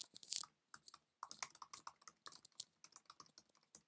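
Fingers type quickly on a computer keyboard in a quiet room, soft irregular key clicks coming in short bursts with brief pauses between words.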